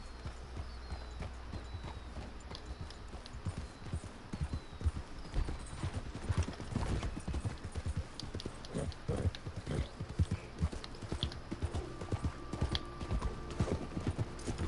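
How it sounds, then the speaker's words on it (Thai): Horse hooves clip-clopping in the Red Dead Redemption II Online video game, a steady run of close, loud hoofbeats carrying on throughout over ambient game sound. "เราจะไปจับม้ากันนะครับ"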